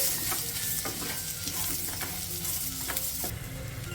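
Taro root pieces frying in a pan with sliced onions, turmeric and curry leaves, a steady close sizzle broken by repeated scrapes and stirs of a spoon through the pieces.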